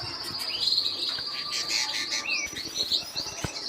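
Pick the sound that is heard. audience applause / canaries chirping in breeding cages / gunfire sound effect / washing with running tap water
canaries chirping in breeding cages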